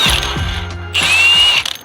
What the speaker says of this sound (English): we need to take off this bolt right here